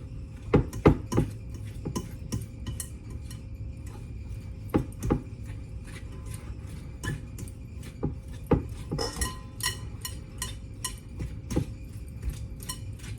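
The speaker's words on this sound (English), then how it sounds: "I'm using a fork, by the way, to cream it together. I just kind of smash the butter down in there and keep mixing it in to the brown sugar." A fork creams butter into brown sugar in a bowl, making a steady run of light clinks and taps against the bowl over a low background hum, close and fairly quiet.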